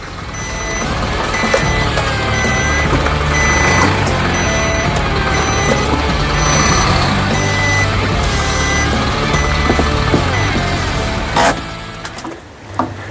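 A truck reverses with a loud, steady engine drone and a repeating high backup beep that runs throughout, then cuts out near the end.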